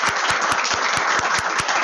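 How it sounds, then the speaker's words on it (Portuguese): Sustained applause from a lecture audience at a university talk, steady and dense with a few sharp claps standing out near the microphone. "uma salva de palmas"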